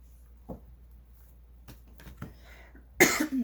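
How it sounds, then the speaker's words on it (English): A person with a lingering cough coughs sharply a few times in a quiet room, with a short soft cough early and a louder, harsher burst near the end. "I still have a lingering cough"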